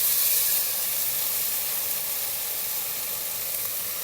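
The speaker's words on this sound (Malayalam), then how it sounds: "നമ്മൾ തിളപ്പിച്ച് വെച്ചിരിക്കുന്ന വെള്ളം അതൊഴിക്കുക. നല്ല തിളച്ച വെള്ളമാണ്," Boiling water poured onto rice and palak frying in a pan makes a loud, steady sizzling hiss that holds evenly throughout, with a slightly stronger burst at the start.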